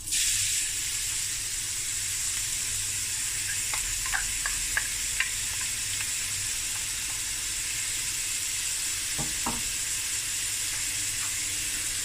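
Cinnamon stick, curry leaves and onions fry in a pot of oil for dhal curry, giving a steady, even sizzle with a few faint clicks and scrapes of stirring.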